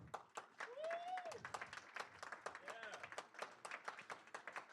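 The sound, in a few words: applause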